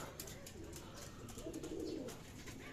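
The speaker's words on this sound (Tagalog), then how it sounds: "Dadatingan na yung mga ibon." Racing pigeons arriving at their loft coo softly in low, throaty phrases, faint and close, mixed with light scattered clicks and rustles.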